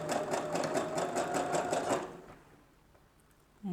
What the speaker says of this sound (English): I'm just running this under the machine now with a zigzag stitch